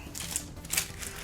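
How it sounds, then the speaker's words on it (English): Sticky tape being peeled off a small plastic bag holding a replica watch, a close, crackly, rustling sound with faint clicks, heard alone. "I'll just take off this little bit of sticky tape."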